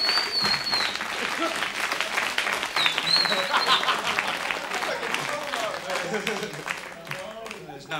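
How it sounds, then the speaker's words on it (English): An audience at a live music show gives sustained applause, with dense clapping and a few whoops heard over faint voices and scattered background chatter. "Give them a round of applause."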